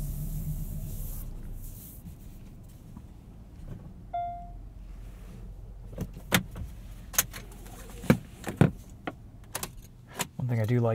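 Key fob of a 2020 Kia Soul X-Line jangling and clicking at close range: a few faint rattles at first, then a run of sharp metallic clinks and taps in irregular bursts, growing louder toward the end.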